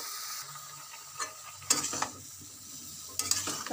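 Vegetables being sautéed in a pan with salt and turmeric, a quiet low sizzle broken by a few sharp scraping stirs of a spatula.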